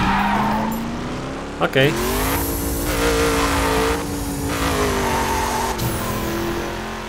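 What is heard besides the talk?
car driving against traffic in video game The Crew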